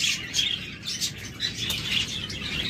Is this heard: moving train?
no